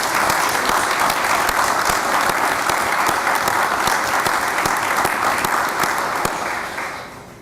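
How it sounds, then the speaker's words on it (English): Sustained applause from an audience at a Kenosha County board meeting, steady and dense clapping throughout, tapering off slightly at the very end. "So I think he deserves a round of applause."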